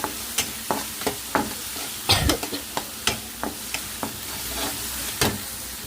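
An Indian tempering fries in a pan with turmeric, a steady sizzle broken by repeated sharp scrapes and clinks of a spoon stirring, close up and without talk.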